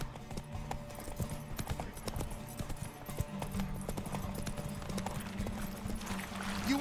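A horse gallops in The Witcher 3: Wild Hunt, its hooves drumming in a fast, steady rhythm over continuous game ambience for the whole stretch.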